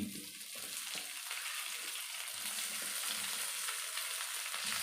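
Egg masala idli mixture frying in a hot pan, giving a steady, dense sizzle with faint stirring scrapes, close and continuous throughout.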